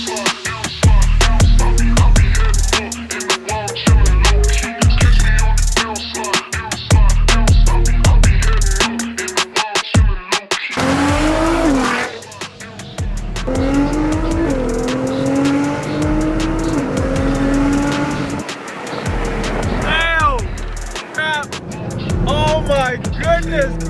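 A Nissan R35 GT-R revs loudly and close up in sharp repeated bursts, then accelerates away with rising gear pulls and tire noise, while people talk at times.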